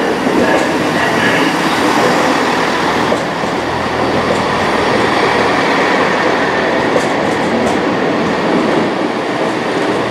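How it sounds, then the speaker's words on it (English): A Northern Rail class 158 diesel unit from Leeds via Barnsley pulls into Nottingham station, giving a steady, loud rumble and rolling rail noise that holds evenly throughout, with no voices. "Pulling into ahead from Nottingham now is a Northern Rail service, class 158 from Leeds via Barnsley."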